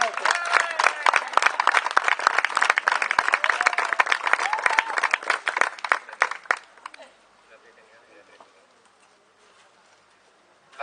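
Theatre audience applauding at the end of a dramatic story reading, a dense burst of clapping that runs loud for about six seconds and then quickly dies away to a quiet room.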